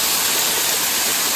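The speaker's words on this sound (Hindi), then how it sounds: "कितना तेज़ झरना बह रहा है" Fast-flowing waterfall on a forest pilgrimage route, a loud, steady, broadband rush of water heard close up without pause.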